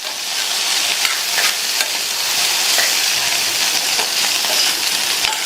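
Bean poriyal is stirred with a coconut mixture in a pan, making a steady, close, bright scraping sizzle with soft repeated stirring strokes and no voices.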